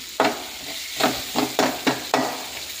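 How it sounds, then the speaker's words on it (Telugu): Vegetables frying in a pan, with five bursts of sizzling and stirring, each scrape flaring up then fading into a steady low sizzle, close and fairly loud. "ఫ్రై అవుతుంది."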